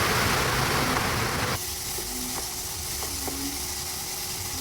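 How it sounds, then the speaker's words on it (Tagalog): Heavy rain drumming on a house roof makes a loud, steady, dense hiss that fills the whole stretch, easing slightly partway through, with no voices. "malakas po yung patak ng ulan dito sa aming bubungan ng bahay"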